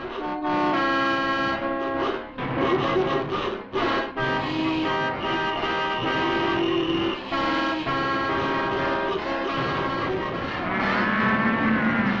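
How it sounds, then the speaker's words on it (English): Heavy traffic jam with many car horns honking and tooting at once, a dense continuous blare of overlapping horn tones over engine rumble, loud and close throughout. "Wheels are rolling in all directions, and they're all headed for the biggest traffic jam since the wheel was invented."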